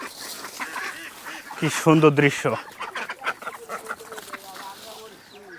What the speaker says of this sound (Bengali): বিলের মধ্যে হাঁস,